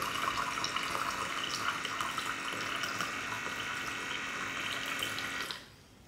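Water pouring steadily from an Amazon water dispenser set up in a room, a close, even splashing stream that runs for several seconds and then stops abruptly.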